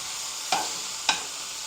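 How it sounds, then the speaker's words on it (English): Seasoned meat browns in a pot for a Jamaican dish, a steady sizzle with two distinct scrapes of a spoon stirring it, close and alone. "we just continue to stir."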